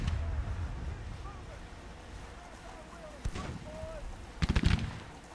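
Long-range weapons firing in the Grand Tactician: The Civil War strategy game, distant sporadic reports with a heavier cluster of booms near the end over ambient battlefield noise.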